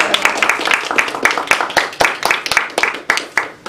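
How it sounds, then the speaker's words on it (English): An audience at a Toastmasters educational session claps steadily in dense, continuous applause, loud and close, with no voices standing out. "let's give them a big round of applause"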